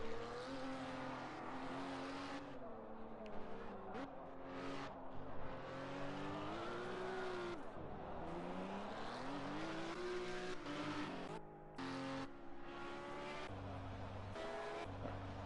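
A race car screams down the starting straight at Le Mans in a racing game, its high engine note rising and sweeping as it passes close. Gear changes and a second engine tone follow, with steady loud motor drone and no talking.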